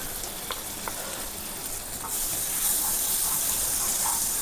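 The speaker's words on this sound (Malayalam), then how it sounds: "ചട്ടി ചൂടായിട്ടുണ്ട്. നമുക്കൊന്ന് ബട്ടറൊന്ന് ആഡ് ചെയ്യাം." Butter melting in a hot pan for butter chicken, a soft hiss with faint crackles that swells into a louder, steady sizzle halfway through, close and without talk.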